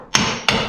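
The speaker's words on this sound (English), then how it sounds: "I like to take my hammer and set that down before I get my back plate on there" Two sharp metal hammer taps on a ball joint during suspension work on a 1983 Chevy K10, close and loud, with a brief ringing tail after each strike.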